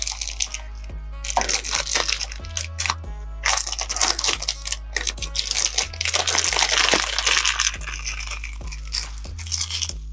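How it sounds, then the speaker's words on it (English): Cellophane wrapping is peeled and crumpled off a glossy fragrance box, loud close crinkling and crunching bursts in irregular rhythm over a steady low hum. "for the people that like to see this cellophane paper coming off"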